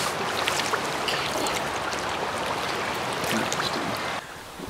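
Steady rushing flow of a river stream outdoors, a continuous broadband wash of water that stays loud and even before dropping slightly near the end.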